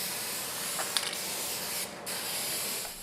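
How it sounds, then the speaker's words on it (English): Spray paint cans laying primer onto a car fender, a steady soft hiss with brief louder bursts and short pauses, close and alone. "I'm just using spray cans on this job."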